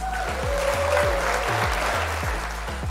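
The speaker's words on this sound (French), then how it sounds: "on va applaudir" Applause fills the space with even, continuous clapping from a small group, with a repeated low tonal pattern running beneath.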